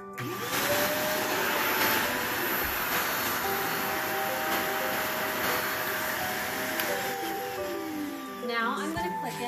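A Shark Navigator Lift-Away bagless upright vacuum cleaner runs steadily on a bare floor with a constant whine and rushing air, loud and close, faint voices underneath.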